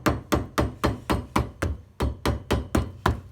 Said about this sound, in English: give that a knock with the hammer.